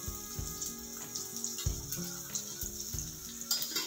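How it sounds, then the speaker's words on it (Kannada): Onion and green chillies frying in a little oil for brinjal chutney give a steady close sizzle with small crackles and a few utensil knocks, without talk. "ಇದು ಸ್ವಲ್ಪ ಎಣ್ಣೆನಲ್ಲೇ ಮಗ್ಬೇಕಪ್ಪ, ಅದಕ್ಕೆ ಸ್ವಲ್ಪ ಎಣ್ಣೆ ಹಾಕ್ಕೊಂಡಿದ್ದೀನಿ."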